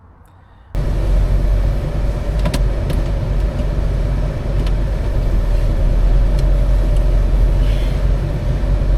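A Land Rover Defender with a V8 GEMS engine driving on the road, its steady low engine drone loud and constant from under a second in, with a few faint clicks and rattles inside the cab.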